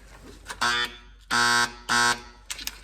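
Harbor Freight winch motor, plugged in on the bench with a couple of capacitors fitted, giving out three loud, steady electrical buzzes, each lasting about half a second, with faint clicks between them.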